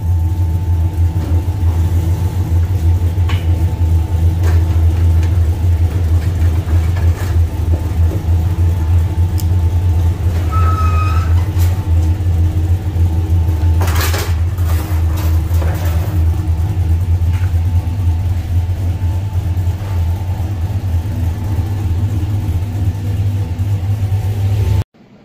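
The Chevrolet El Camino's engine idles with a steady low rumble, then pulls away slowly with a brief swell midway before cutting off abruptly at the end.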